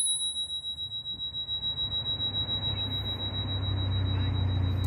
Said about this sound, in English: this is the SPURCYCLE's bell. It's one of the most incredible bells that I have ever heard